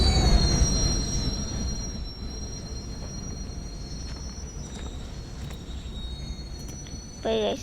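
A train moving through a video game, with steady rolling rumble and high, sustained wheel squeal, loud at first and easing slightly, ending with a short burst of clatter.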